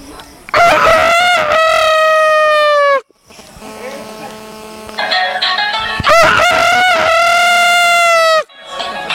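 A person imitates a rooster's crow: two loud, drawn-out cock-a-doodle-doo calls, close up, separated by a short pause with faint background noise.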